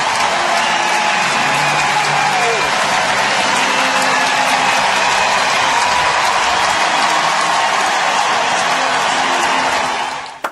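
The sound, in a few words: crowd applause for Matt Cain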